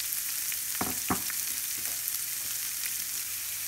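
Chopped onion sautéing in a pan, a steady close sizzle with a couple of sharp spoon knocks against the pan and light stirring scrapes throughout.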